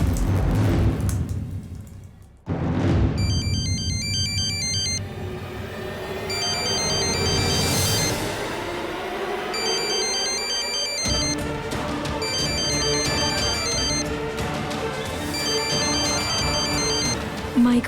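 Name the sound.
phone ringtone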